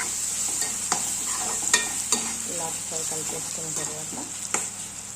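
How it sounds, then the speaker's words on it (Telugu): Onion, garlic, tomato and green chili mixture fries in oil for a tomato garlic curry, a bright constant sizzle with repeated spoon scrapes and clacks against the pan. "ఇలా బాగా ఆయిల్లో ఫ్రై అయిన ఈ మిశ్రమం అంతటిని ఒకసారి బాగా కలుపుకొని అడుగు పడుతుందేమో చూసుకొని మధ్య మధ్యలో కలుపుతూ బాగా వేయించుకోవాలి"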